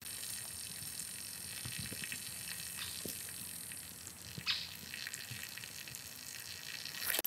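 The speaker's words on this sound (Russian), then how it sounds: "ну вот уже вода закипела" Water boiling in a small pot over a camping candle made of paraffin and cardboard: a faint, steady hiss with soft bubbling and a few small pops near the end.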